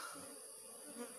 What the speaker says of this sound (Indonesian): Ini lebah ada di lokasi kaliandra ya.